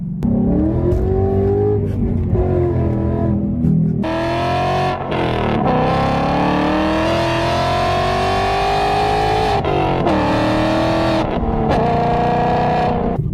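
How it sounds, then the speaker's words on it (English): A Ford Mustang GT S550 revs loudly and close during a hard pull. Sharp exhaust backfire pops crackle between and over the engine's rising and falling roar. "that backfire is brutal"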